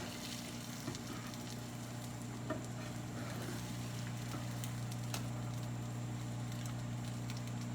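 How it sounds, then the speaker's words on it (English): Eggs frying in a pan, a steady close sizzle with light crackle and occasional soft stirring taps, continuous throughout and without any talking. "The sound of the eggs turning over."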